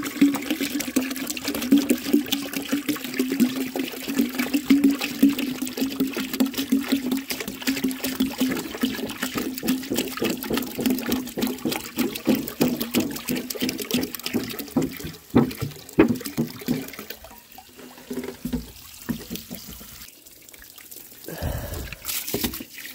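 A 1905 forward trap toilet with an unknown maker flushes in a test, a loud rushing gush of water that churns steadily, then thins to trickling and gurgling drips toward the end.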